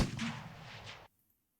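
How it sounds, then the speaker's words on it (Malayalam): Gunfire in the Squid Game video game, a dense burst of booming shots lasting about a second before cutting off abruptly to silence. "ആരെയോ വെടിവെക്കുന്നുണ്ടല്ല."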